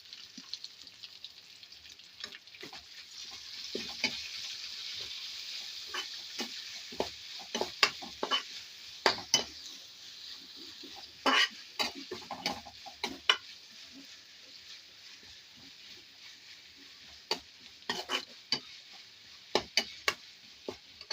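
Crushed shallots sizzle in hot oil for a soya chunks dry fry, with a steady close frying hiss and frequent scraping, clattering stirs of a spoon in the pan throughout, no voices.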